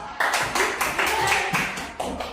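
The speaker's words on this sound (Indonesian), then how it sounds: "Kasih tepuk tangan." A group claps their hands in unison in a classroom-style setting, a rhythmic series of about eight to nine distinct synchronized bursts, close and fairly loud.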